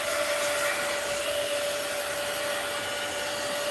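A dryer blows steadily on a mixed-media art journal page, a loud, even whir with a constant tonal hum running throughout and no talking.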